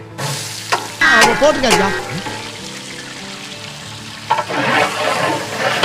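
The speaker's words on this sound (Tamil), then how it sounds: "இப்போ வெங்காயம் போடுறோம்." Onions tipped into hot oil for a large batch of biryani, five kilos in all, giving a burst of loud sizzling that settles into steady frying, with voices talking over it.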